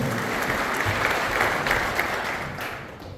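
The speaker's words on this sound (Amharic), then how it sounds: "ብዙ ጭብጨባ ለጌታ አምጡለት" A church congregation claps for the Lord during a sermon, producing steady, full applause from many hands that fades slightly at the end, with no voices on top.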